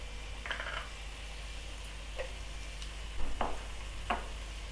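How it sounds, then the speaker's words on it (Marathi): Chickpea masala sautéing in a pan over a medium gas flame, a soft steady sizzle broken by a few distinct scraping and stirring strokes of a spoon against the pan. "हे असं परतून द्यायचं आहे जरा मध्यम गॅसची आच करून."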